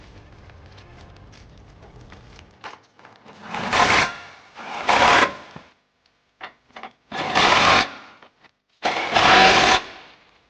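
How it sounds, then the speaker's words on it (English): A power or ratchet tool drives a 21mm swivel socket to tighten trailer hitch bolts on a 2016 Jeep Grand Cherokee, four loud whirring bursts, each about a second long, separated by short pauses, heard close. "now using our 21mm swivel socket, we're going to go ahead and tighten it up"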